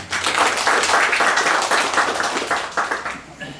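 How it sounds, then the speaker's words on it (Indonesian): A close group bursts into brisk, loud hand clapping, a dense flurry of rapid claps that runs the full few seconds before thinning out at the close. "sekali lagi tepuk tangan untuk Serasan Seandanan"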